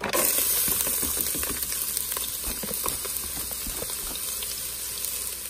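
Diced onions sizzling in sesame oil inside a Ninja Foodi or Instant Pot multicooker, a steady close frying hiss with light crackles and no talking.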